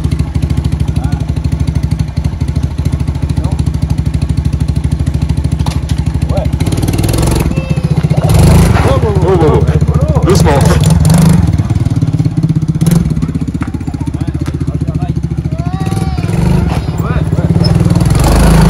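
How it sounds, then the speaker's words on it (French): A motorcycle engine revs up and down in loud bursts at a motorcycle shop, with excited voices calling out in French over the running engine. "il veut essayer toutes les motos"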